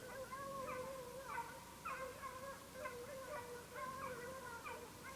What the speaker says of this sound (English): I hear dogs or something back in the woods.